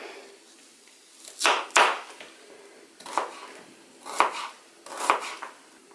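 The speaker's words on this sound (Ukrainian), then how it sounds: "Для цього рецепту беру фіолетову цибулю, нарізаю її півкільцями." A knife slices a red onion into half rings on a cutting board in a few sharp, separate strokes, close up, with quiet pauses between cuts.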